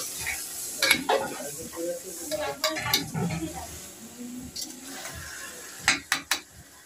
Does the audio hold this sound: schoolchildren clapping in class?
no